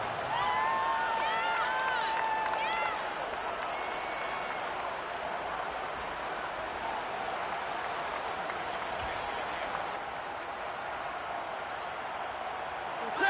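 Stadium crowd at an NFL game between punts in Madden 22, a broad, steady roar of murmur and cheering that stays level and slightly fades, with a commentator's voice over it at the start.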